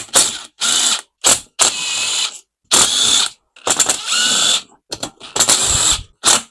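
A ratchet wrench loosening the 3/8 sump bolts on a Tecumseh engine held in a vise, heard as loud, close bursts of rapid clicking cranks separated by short pauses.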